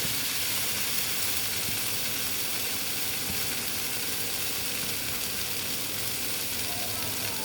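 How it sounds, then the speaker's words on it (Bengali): Water is poured into a hot pan of matar paneer masala, raising a loud, continuous hiss and sizzle with steamy crackle that holds steady throughout, with no one speaking. "এবার আমি এখানে জল দিয়ে দিচ্ছি"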